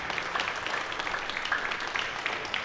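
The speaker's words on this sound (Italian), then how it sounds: "un applauso per il nuovo sponsor" An audience at a cycling event applauds a new race sponsor, a soft, continuous patter of many hands heard at a distance without any voices.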